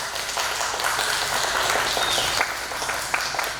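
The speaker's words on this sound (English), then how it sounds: "Come on up, Mandy, for a round of applause." An audience claps for a contestant named Mandy at a pinup contest: a short, dense round of applause that carries on evenly throughout.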